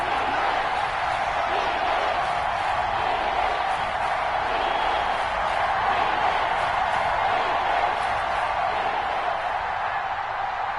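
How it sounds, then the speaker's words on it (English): A football stadium crowd at a game rumbles as a steady, dense roar with faint cheers, sustained evenly throughout at moderate distance. "And the crowd getting into it as we come up on a big third down"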